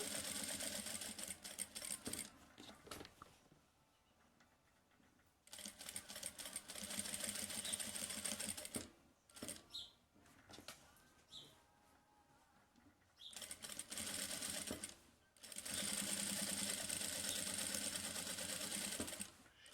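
Domestic sewing machine stitching fabric for a placemat, running in several long bursts of rapid, whirring stitches separated by short pauses while the cloth is turned and adjusted.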